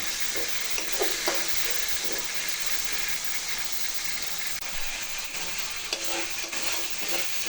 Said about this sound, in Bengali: আমার মশলাটা কষানো কিন্তু মোটামুটি হয়েছে দুই দুই তিন মিনিট কষায় নিছি